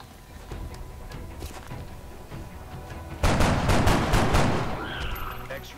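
Gunfire in the tactical game XCOM: Enemy Unknown, a sudden loud burst of rapid overlapping shots and impacts after quieter ambience, with faint sporadic earlier reports.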